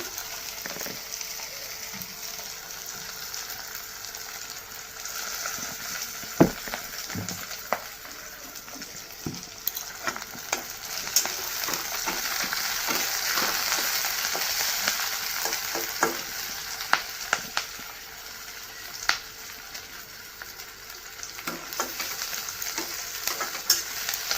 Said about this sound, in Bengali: পেঁয়াজ দিয়ে একটু ভাজা ভাজা হোক তারপরে মশলা দিয়ে দেবো